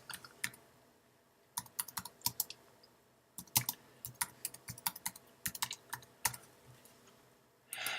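Someone types on a computer keyboard in irregular bursts of crisp, close key clicks with short pauses between runs, ending in a slightly louder flurry.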